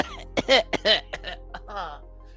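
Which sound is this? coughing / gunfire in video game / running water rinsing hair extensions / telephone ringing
coughing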